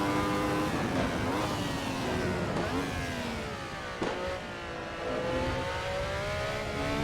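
A Ferrari 312T Formula One car in Assetto Corsa: a high-pitched racing engine screams steadily, with its pitch dropping on downshifts into a corner and then climbing again as it accelerates out, alone and close.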